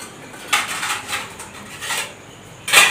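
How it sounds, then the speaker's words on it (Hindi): Cutlery, utensils, pots and pans clang and clatter in a kitchen, several sharp bursts spread over a few seconds, fairly close, with no voices. "कितने बर्तन बजा रहे"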